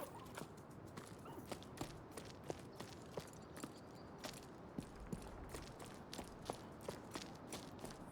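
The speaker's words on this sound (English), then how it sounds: "the footsteps sound really good" Running footsteps of a character in the video game Jusant patter in a quick, even rhythm, a steady series of soft, close impacts held at low level throughout.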